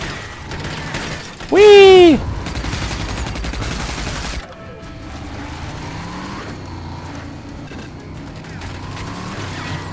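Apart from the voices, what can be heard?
gunfire shooting at the player in video game RAGE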